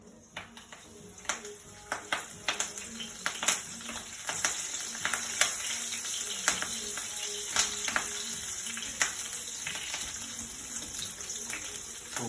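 Curry leaves crackle and sizzle in hot oil for crab sukka, a steady bright hiss dotted with sharp pops and occasional utensil taps, fairly close and free of speech.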